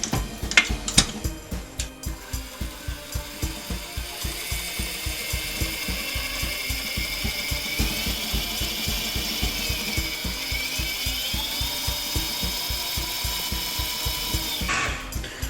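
An electric mixer beats Christmas cake batter after flour and mixed spice go in. It makes a close, continuous mechanical whir with a rapid rhythmic rattle that runs throughout without any voices.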